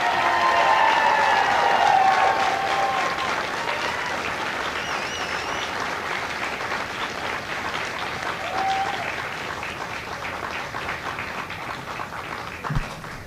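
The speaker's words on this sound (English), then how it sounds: "please join me in a round of applause for the company staff of Company A." A large crowd at a Marine Corps recruit graduation ceremony in San Diego applauds steadily for the company staff, a dense, continuous wash of clapping that slowly fades a little over about thirteen seconds.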